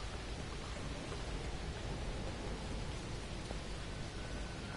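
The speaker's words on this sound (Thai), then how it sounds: "ข้างนอกฝนตกนะ" Steady rain falls outside in the horror video game The Evil Within, a dense, even hiss with no talk over it.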